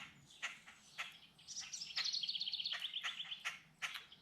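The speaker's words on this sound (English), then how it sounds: "Got a cat out here bothering the blackbirds. They're not very happy about it." Blackbirds calling in alarm at a cat outdoors, sharp chirps and a rapid rattling chatter repeated over a few seconds, moderately distant and fairly faint.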